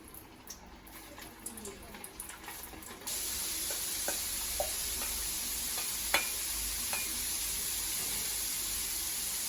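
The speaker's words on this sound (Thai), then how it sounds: "ปลาเสร็จแล้วคลุกเรียบร้อยครับ ลงทอดได้เลยครับ" Battered sea bass goes into hot oil over medium heat and deep-fries with a steady, loud broadband sizzle, a few faint pops and clinks scattered through it, after a quieter stretch of stirring and handling.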